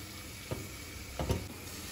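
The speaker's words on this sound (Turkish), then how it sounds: "Şöyle yaklaşık 1 yemek kaşığı kadar un ekliyorum. Ve kavuruyorum. Kavurmaya devam ediyorum." Mushrooms and flour sizzle softly in a pan as they are sautéed and stirred, a steady hiss broken by a couple of scraping stirs.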